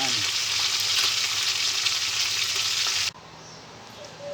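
Fresh fish frying in a pan of hot oil, a steady loud sizzle with stirring that holds for about three seconds, then drops sharply to a much quieter bubbling.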